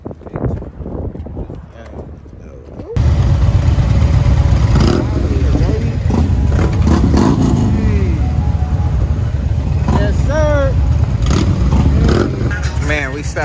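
Harley-Davidson motorcycles idling and revving loudly up close from about three seconds in, a steady low rumble under men chatting outdoors among a group of young riders.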